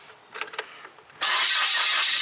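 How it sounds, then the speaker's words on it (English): A 2005 Subaru WRX STI being rebuilt after a wreck cranks with a few uneven bursts, then fires and settles into a loud, steady idle close by. "Now she should crank right up."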